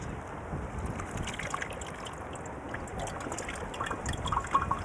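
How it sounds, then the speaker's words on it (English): Foul, gunk-laden water poured into a sand filter and trickling through into a glass, a soft steady run of drips and liquid splashes with no voices, fairly quiet and continuous throughout. "when I pour in this foul water with all that gunk in it, it should come out crystal clear and ready to drink"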